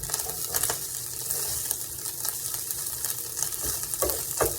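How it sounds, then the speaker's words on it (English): Hamburger meat fries on a stove with a steady crackling sizzle, punctuated by occasional sharper pops and light stirring scrapes. "start adding in your hamburger meat inside of here"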